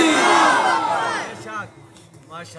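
A large crowd at a religious speech gathering roars back a loud chant in answer to a takbir slogan, the shout peaking at once and then fading into scattered voices.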